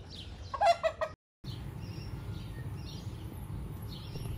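Chickens at a desert monastery farm that also keeps goats, sheep, ducks and peacocks, giving a short burst of clucking near the start over a steady outdoor ambience with faint birdsong.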